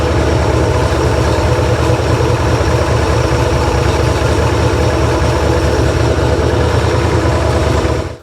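Vintage car engine fitted with a restored Autolite/Motorcraft distributor, idling while it warms up: a loud, close, steady low rumble that holds constant and cuts off abruptly at the end.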